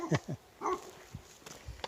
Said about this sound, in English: A couple dogs came to quote-unquote greet me.